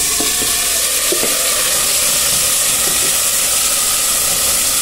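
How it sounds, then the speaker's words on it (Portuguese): Meat frying in a pan for Maria Isabel rice, a steady loud sizzle and hiss that fills the whole stretch, close up, with a few faint clatters of utensils, no talking. "Eu vou deixar fritando."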